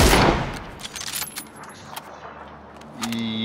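Gunfire in PUBG during a tutorial match against bots, aimed toward an enemy behind a tree: a loud burst of rapid shots opens, then scattered fainter shots and clatter, with a rising tone at the end and no talking.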